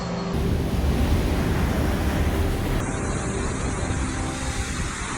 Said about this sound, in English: Flooding everything now.